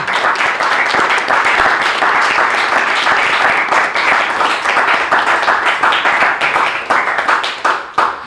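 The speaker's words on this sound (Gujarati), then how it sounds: "એક વખત જોરદાર તાળીઓ" Loud, sustained applause from a large audience at a writers' round-table event, dense clapping that holds steady before tapering slightly at the end.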